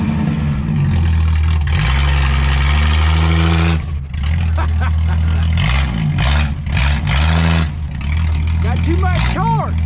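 A 1962 Ford Falcon Tudor's inline six engine revs hard close by, with repeated rising and falling throttle surges after a sustained roar, while people talk and shout over it.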